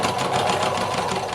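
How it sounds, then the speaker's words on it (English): Sewing machine stitching shirt fabric up to the first pin, a continuous close, buzzing mechanical whir with a fast, even rhythm throughout. "I'm just gonna sew up to the first pin"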